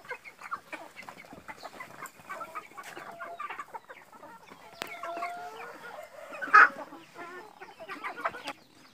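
Chicks and chickens cluck and peep at feeding time on a rural farm, a busy mix of soft clucks and high chirps with one sharper, louder call partway through.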